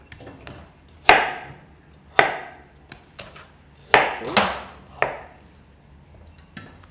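Carrots being chopped with a knife for a regional Italian winter stock: a handful of sharp, separate thuds land on a cutting board in an uneven rhythm, close and fairly clear, with quiet pauses between cuts.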